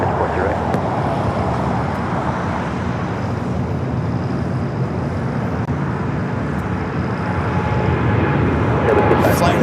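An airliner arriving at LAX from Seoul produces a steady, loud engine rumble and roar that swells slightly toward the end, with people talking over it.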